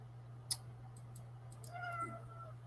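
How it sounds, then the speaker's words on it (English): Pet cat crying indoors, a few faint distant meows and short clicks over a low steady electrical hum. "That is Midnight, that you probably heard crying. That's my kitty."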